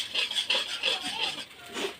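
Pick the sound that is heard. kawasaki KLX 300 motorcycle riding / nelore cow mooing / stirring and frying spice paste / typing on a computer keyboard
stirring and frying spice paste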